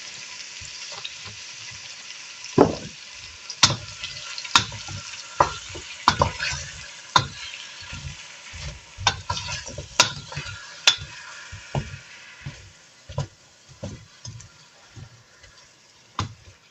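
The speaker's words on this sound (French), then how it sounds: "Je vais rajouter un peu d'huile d'olive pour éviter que les oignons accrochent." Onions frying in olive oil with a soft background sizzle, broken by repeated sharp knocks and scrapes of stirring in an irregular rhythm, close and clear with nobody speaking.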